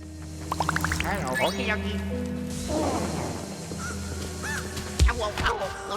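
Birds caw in a Luigi's Mansion 3 game scene, several rough calls rising over a steady low drone, with speech heard alongside.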